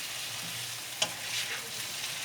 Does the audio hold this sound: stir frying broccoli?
yes